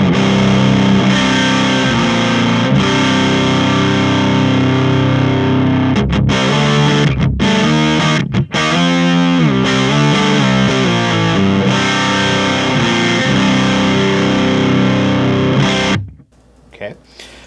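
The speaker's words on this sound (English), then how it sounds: "we're going to go ahead and run through the distorted tones here, back on number 1" Distorted electric guitar runs through a Joyo preamp set to a Fender '65 Twin Reverb model, played into a Blackstar cabinet miked with an SM57. Loud, dense sustained chords and riffs ring on before cutting off abruptly near the end.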